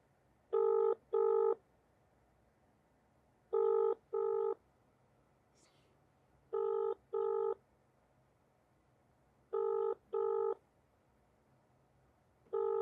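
An unanswered outgoing phone call gives the ringback tone: five evenly spaced pairs of short electronic beeps, each pair about three seconds apart, over a quiet low hum with no talk.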